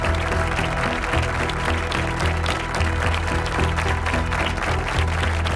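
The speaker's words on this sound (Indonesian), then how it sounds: "Tepuk tangan membahana" A crowd applauds at the 1969 Apollo 11 launch, a loud, continuous wash of clapping mixed with a low rumbling undertone and some crowd noise, sustained without a break.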